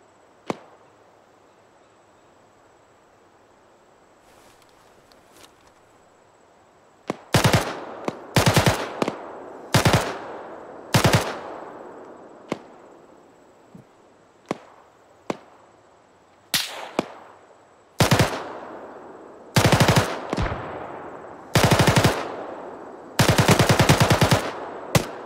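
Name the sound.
gunfire in the video game ArmA 3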